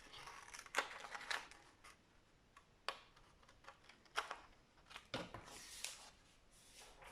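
Scissors cut paper for a Memoridex craft in a handful of close, quiet snips spaced irregularly, with faint crinkling of the sheet in between and no speech.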